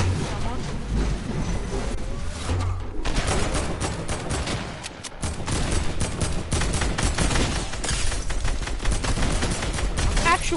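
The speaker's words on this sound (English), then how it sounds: "I'm shooting someone." Sustained Fortnite gunfire fills the stretch, a dense, loud clatter of repeated shots with a brief lull midway before the shooting resumes, while a player talks over it.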